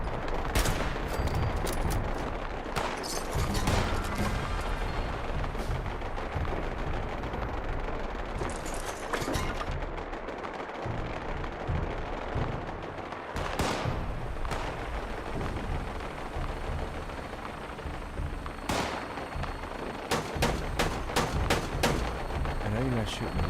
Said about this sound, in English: I know you're not shooting at me. Who are you shooting at?